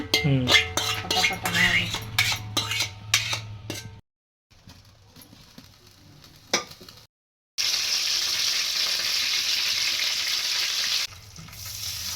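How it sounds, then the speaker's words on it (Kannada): Masala fries in hot oil with a loud, continuous hiss of sizzling, joined by clinks and scrapes of a spoon against the pan, with quiet gaps and close, busy kitchen clatter. "ಎಣ್ಣೆ ಒಳಗಂತೂ ಮಸಾಲೆ ಮಸ್ತ್ ಕುದೀತ್ರಿ ಈಗ"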